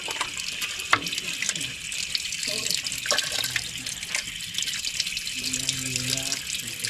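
Water runs steadily from a tap, a continuous hissing splash filling the background while people talk nearby.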